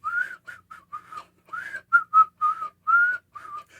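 A person whistles a short tune in a string of bright, separate notes, close and clear, with brief pauses between phrases.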